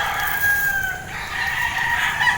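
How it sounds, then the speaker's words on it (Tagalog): Roosters crow repeatedly with long, drawn-out calls while hens cluck steadily underneath, loud and close, over a busy farmyard backdrop as chickens are fed. "Ang ingay ng mga manok."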